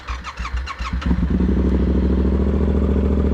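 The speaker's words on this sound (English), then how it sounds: "let's start it up, have you guys hear it." A 2023 Yamaha MT-07 motorcycle cranks over with a quick clattering starter for about a second, then catches and settles into a loud, steady, close-up idle rumble.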